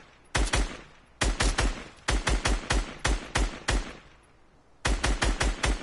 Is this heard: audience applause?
no